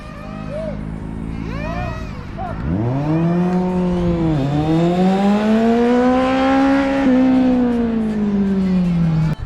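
A car and a Z800 motorcycle make a standing start: an engine revs up hard from idle, climbing in pitch with a brief dip at a gear change, loud and close, over the whole stretch.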